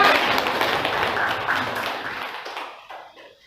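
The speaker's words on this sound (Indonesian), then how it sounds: "beri tepuk tangan dulu untuk kita semua" Classroom audience applause during a school guidance lesson, a short burst of scattered clapping that fades steadily into quiet over a few seconds, with no talk over it.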